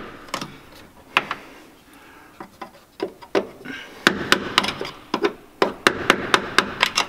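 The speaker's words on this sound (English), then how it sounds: "I'm just gonna get a flathead screwdriver, a little hammer, and just start tapping away at it" Sharp metallic taps from a small hammer striking a flathead screwdriver on a Ferrari fuel pump nut, irregular at first, then quicker and steadier, close by with no talking.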